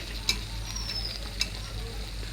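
Okra dropped into a pan of cooked masala with oil risen to the surface, frying with a steady soft sizzle and two sharp scrape-clicks of a spoon on the pan, close and without talk.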